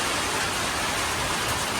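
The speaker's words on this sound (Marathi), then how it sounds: "खूप पाऊस पडला आहे" Heavy May storm rain falls in a steady, unbroken hiss, moderately loud and even throughout, with no talking.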